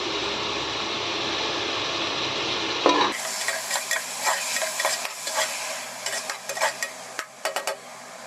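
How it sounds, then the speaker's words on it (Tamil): Chopped onions and tomatoes with rock salt sautéing in a pan for a village-style mutton breastbone curry, a broad steady sizzle that drops off, followed by repeated close scraping and stirring strokes. "வெங்காயமும் தக்காளியும் நல்லா இந்த அளவுக்கு நல்லா வதங்கிடுச்சு"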